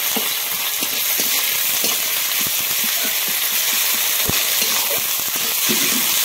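Ginger, onion and garlic paste frying in a pan, giving a steady close sizzle and hiss with faint scraping, no voices.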